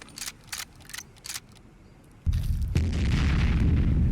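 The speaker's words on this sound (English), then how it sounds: "he's gonna explode in a second" An explosion in Fallout 4 during a heavily modded survival run: a few faint clicks, then a sudden loud boom that swells into a sustained, rumbling roar.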